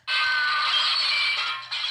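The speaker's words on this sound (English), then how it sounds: "Breaking glass." A novelty sound machine from a prop store plays a shattering glass effect, one bright sustained crash with tinkling that lasts under two seconds and sounds close and clear.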